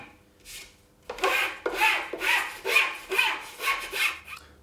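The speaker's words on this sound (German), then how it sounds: "Bevor wir das Stemmeisen abziehen an der Lederabzugscheibe, raue ich sie ein bisschen auf mit einer Feile." A file roughens the leather honing wheel of a Tormek T7 sharpener, giving a series of close, scratchy rasping strokes in a steady back-and-forth rhythm.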